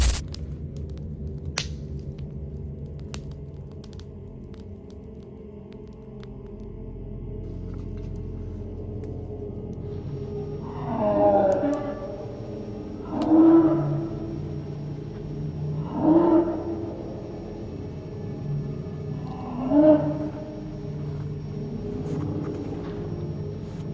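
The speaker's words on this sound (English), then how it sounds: "an unnatural noise tears through the woods, a deep, booming roar that echoes between the trees" Deep booming roars at night in the woods, about four swelling low bursts in a row after a quiet rumbling stretch, resonant and echoing between the trees, with no voices.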